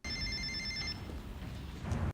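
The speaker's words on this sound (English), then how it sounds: "they ain't picking up that phone, boy" A telephone bell in a TV drama scene rings once briefly and goes unanswered, then falls silent over a low, steady background rumble.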